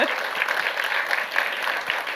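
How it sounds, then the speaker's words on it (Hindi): Dense, steady applause from a crowd at a film trailer launch event, loud and continuous throughout with a few sharper claps standing out from the mass. "क्या प्रोड्यूसर ने जोरदार ताली मार दी इसी बात में"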